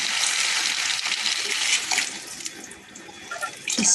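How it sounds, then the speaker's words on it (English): Water poured into a cooking pot in a home kitchen during vegetarian cooking, a steady splashing hiss that runs continuously for several seconds at moderate loudness, with a brief louder gush near the end. "I'll add the water at this moment."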